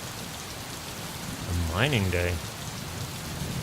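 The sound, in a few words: rain and thunder in video game Gemini Rue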